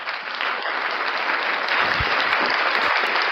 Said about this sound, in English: he found the applause button